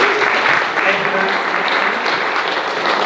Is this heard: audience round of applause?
yes